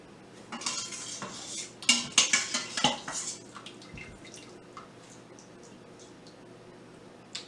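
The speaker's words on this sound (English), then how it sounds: "I do like to go in and just spoon some of that, the liquid there over into the bowl to keep it from drying out" Cooking liquid from a pot of lima beans with okra and ham hocks is spooned into a bowl, with a cluster of clinks and scrapes of the spoon against cookware and soft drips, then quiet; no speech.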